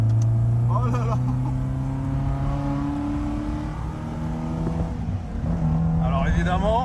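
BMW E30 Touring engine revving and accelerating at low road speed, a steady loud drone with rising harmonic tones, with people talking briefly over it near the start and end.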